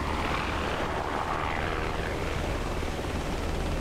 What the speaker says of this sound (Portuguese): Ainda tem um helicóptero salva-vida ali.